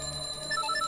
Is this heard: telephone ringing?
yes